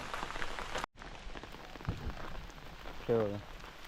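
Sudden unseasonal rain falls in the Konkan during a wedding, a soft, steady patter with faint knocks and a short burst of voice near the end.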